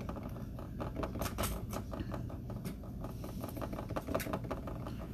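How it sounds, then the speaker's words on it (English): Small metal chain links for a pearl tassel snipped with cutters, giving a run of close, sharp little clicks and snaps over a busy, constant background, with no talking. "So I'm gonna go ahead and cut them 1, 2, 3, 4, 5."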